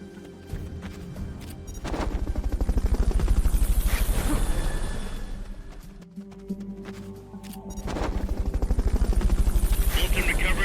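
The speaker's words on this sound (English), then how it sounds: "Fulton recovery helicopter is complete." The Fulton recovery helicopter in Metal Gear Solid Peace Walker thrums with a loud rotor drone that swells, dips midway, then rises again, mixed with game effects and speech.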